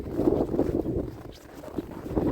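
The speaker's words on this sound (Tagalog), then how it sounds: "Malakas ang hangin." Strong wind gusts rumble and buffet against the microphone in uneven surges, with no voices present, after a major snowstorm in Montreal.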